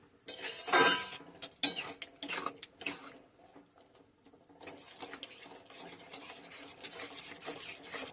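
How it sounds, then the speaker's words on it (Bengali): A utensil stirs creamy bottle gourd payesh thickened with rice flour in a pot, giving scraping clinks and rasping strokes close by, louder and busier at first, then a quieter steady scraping, with no talking. "এইভাবে নাড়াতে থাকবে।"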